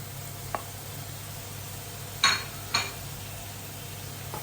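Onion paste goes into a pan for Kuttanadan duck curry and is stirred, with a few brief spoon scrapes over a faint, steady sizzle.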